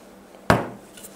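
A bottle of Chistaya Reka bitter liqueur being opened: one sharp, close cap crack or pop with a short fading ring, followed by a faint small click.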